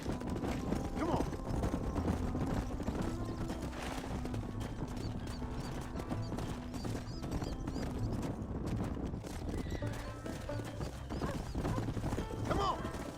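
Horses trotting with steady clip-clop hooves in the Western video game Red Dead Redemption, a herd being driven into a pen, with occasional whinnies and a voice speaking over the continuous hoofbeats.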